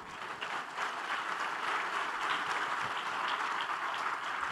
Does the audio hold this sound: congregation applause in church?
yes